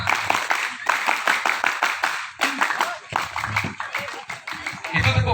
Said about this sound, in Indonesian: Itu tepuk pramuka kan?